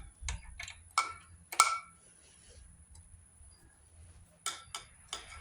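Ratchet wrench clicking on bolts of a Kawasaki KX450 dirt bike during rear brake lever and front sprocket work, several short bursts of sharp metallic clicks spaced apart, fairly close, with quiet gaps between.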